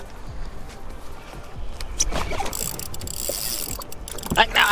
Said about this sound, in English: once your line starts peeling off your reel, I mean, it has to go fast